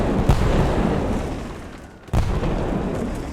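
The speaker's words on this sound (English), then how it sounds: "the Americans found them and started bombing them" Bombing explosions in Totally Accurate Battle Simulator, on a simulated highway out of Kuwait: a dense, loud rumble of blasts with a sharp burst early, a brief lull, then another heavy explosion and continued roaring booms.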